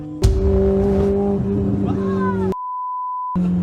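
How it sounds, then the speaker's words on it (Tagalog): A speeding car's engine drones loudly and steadily up close, then a long electronic beep cuts in before the engine noise returns. "Makikitang mabilis ang takbo at rinig ang ingay ng kanilang kotse"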